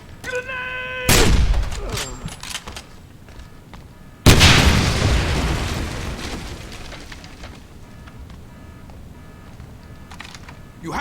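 Two loud grenade blasts in the 2009 Wolfenstein game, a sharp explosion followed a few seconds later by a bigger boom with a long rumbling decay amid combat noise.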